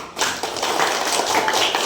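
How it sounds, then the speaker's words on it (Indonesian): Classmates applaud students in a classroom, a short, close burst of dense hand clapping with little else beneath it. "Tepuk tangan buat Mas Nikan sama Mas Habis."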